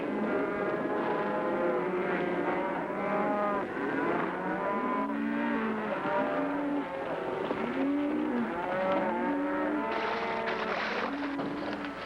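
A large herd of cattle bellows and moos continuously, many animals overlapping in a loud, chaotic din with rumbling movement underneath.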